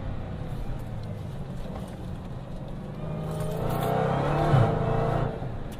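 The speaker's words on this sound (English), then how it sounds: "Flying up to this sharp left-hander, flick a few downshifts." A Dodge Challenger Hellcat's engine rumbles steadily, then rises in a building roar as it downshifts approaching a sharp left turn, heard from inside the car.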